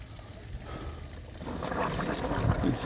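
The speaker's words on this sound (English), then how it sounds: "if we push down the Ventura again and we restart the pump, the water will come to the top" Pond pump restarting and pushing water up through a koi pond filter, a steady bubbling, pouring rush that builds and grows louder toward the end, heard close with no talking.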